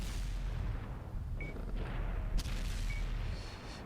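Tank cannon fire from a Leopard 1 in World of Tanks on console, a deep booming blast rolling under a constant rumbling engine drone, with a second shot following moments later.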